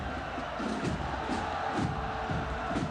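Large football crowd at a Scotland v England home international match in rain, a dense continuous roar with surging chants and cheers, distant and steady.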